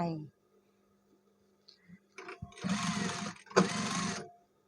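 A sewing machine stitches stretch fabric while elastic is replaced in a trouser waistband: after a quiet pause and a few clicks, two close, loud bursts of rapid stitching follow, with a short gap between them.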